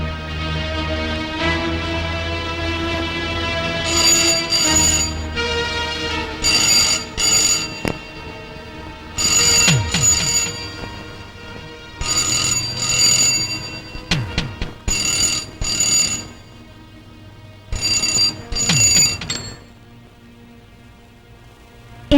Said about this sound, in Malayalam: എന്താ രാജ് ഫോൺ കട്ട് ചെയ്തത്?